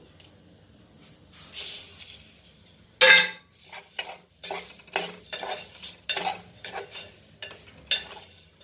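Sugar stirred into a pan for a coconut sweet, a series of close scraping and clattering spoon strokes against the metal in an irregular rhythm, with one sharp clank early on.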